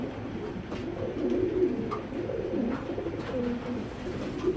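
A restless original racing pigeon coos steadily and repeatedly at close range, its low murmuring calls running on without a break.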